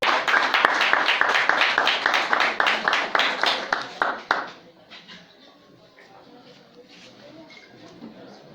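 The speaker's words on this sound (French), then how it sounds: "Nous avons un gros applaudissement." Wedding guests at a ceremony clap in rhythmic unison for pastor Ronald, a loud, regular beat of joined claps that stops abruptly midway, leaving a quiet room with faint background sounds.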